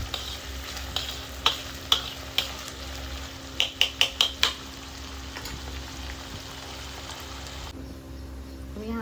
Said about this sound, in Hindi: और अब मैं डाल दूँ टमाटर और हरी मिर्च। और इसको तब तक पकाएंगे जब तक कि मसाला अपने आप तेल ना छोड़े।